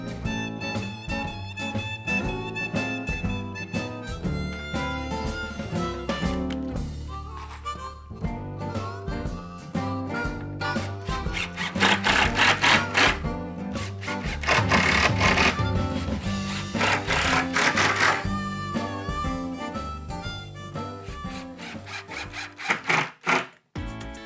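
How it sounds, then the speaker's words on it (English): A drill with a countersinking bit pre-drills screw holes in a wooden cornhole board top, giving repeated grinding and whirring bursts that rise and fall across the clip, loud and close, with no speech. "I'm using the countersinking bit to pre-drill holes for the top and do the same process"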